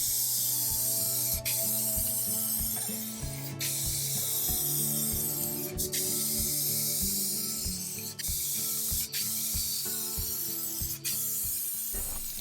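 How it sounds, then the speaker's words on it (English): Clear satin lacquer hisses from a sprayer onto furniture in steady bursts, each pass ending with a sharp click of the trigger, close and fairly quiet with no voices. "now I'm finishing it with clear satin lacquer"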